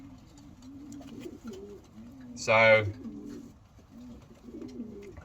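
A racing pigeon hen coos softly in a few low, rolling phrases, broken midway by a brief louder flutter or rustle, while someone speaks a single short word.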